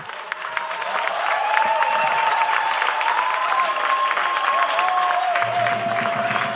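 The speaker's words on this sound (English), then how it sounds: "Can we give him another round of applause, please?" Loud, sustained applause from a large crowd at the Ekiti State 2025 budget presentation in Nigeria, with a long wavering cheer or ululating voice drawn out above the clapping.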